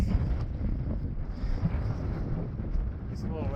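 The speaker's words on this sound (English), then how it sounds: "It's a little windy" Wind sweeps across the 13,123-foot summit of Mount Flora, a steady low roar of microphone buffeting that stays constant throughout with slight gusty swells.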